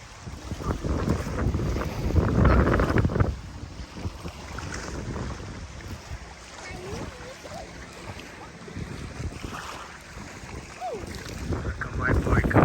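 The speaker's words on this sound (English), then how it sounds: "A little windy, but it's good." Wind at a beach near Vila Franca do Campo, São Miguel, buffeting the microphone in strong gusts with a steady whooshing rush and distant surf, loudest early on and easing later.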